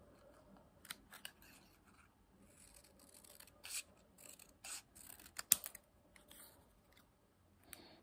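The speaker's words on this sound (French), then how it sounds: "Je vais déjà la couper parce qu'elle est trop grande" Scissors snip through an oversized paper page for a New Year's journal spread, a handful of short, crisp cuts close up and fairly quiet, spaced irregularly with quiet handling between them.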